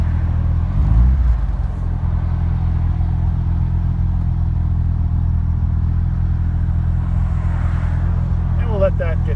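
A Super Seven car's engine under way in first gear, a steady low rumble with some clatter that builds slightly. The driver is talking over the engine.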